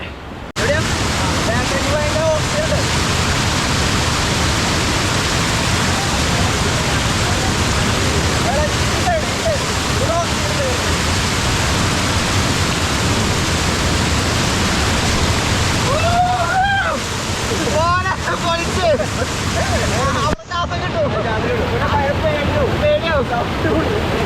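A steady, loud roar of water tumbling over a check dam where people swim during a morning cycle ride, dense and continuous throughout, with faint voices and splashes surfacing now and then.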